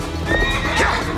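A horse whinnies over clip-clopping hooves on a period action film set, the neigh rising loud and close amid steady hoofbeats.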